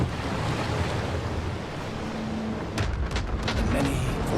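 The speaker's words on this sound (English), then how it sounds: "The many-voiced sea." Sea waves wash in a steady, broad roar with wind blowing across the microphone, and a few sharper surges of surf break through toward the end.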